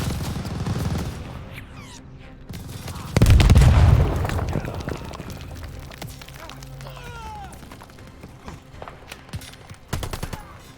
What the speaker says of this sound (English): Keep that tower MG down!